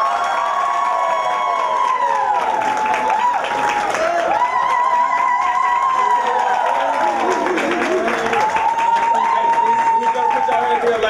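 A live audience cheers and applauds for an arriving guest, Trey L., with dense continuous clapping and excited shouting voices that stay loud and steady throughout.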